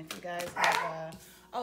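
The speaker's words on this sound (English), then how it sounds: "That's my dog." A pet dog barks several times indoors, sharp yips close by while someone talks over the barks.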